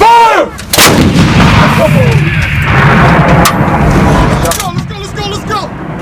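Artillery gun firing during a live-fire exercise: a loud, sharp blast near the start followed by a long rumbling echo, with crew members shouting commands in the background.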